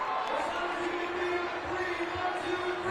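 Restless crowd at a Banana Ball baseball game, a steady murmur with scattered cheers from a big stadium audience, heard at a distance with a faint sustained tone running through it.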